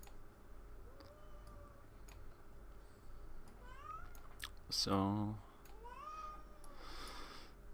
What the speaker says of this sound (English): The soft little meows in the background.